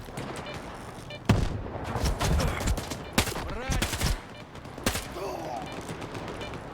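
Gunfire from an FMG gun in the video game STALKER 2: several sharp, loud bursts cut through a busy background of other shots and rumble, with a voice faintly audible in the mix.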